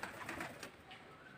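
Soft pigeon cooing, a few low throaty calls close by, fading into quiet background noise.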